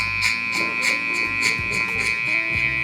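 Electric hair clippers cutting a mid fade buzz steadily and close by, with a rhythmic pulsing as they sweep through the hair repeatedly.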